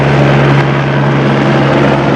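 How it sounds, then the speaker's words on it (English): Steady loud drone of a police helicopter circling directly above a house, a constant rotor and engine hum with no other sounds. "we had the police helicopter circling the house for half the show"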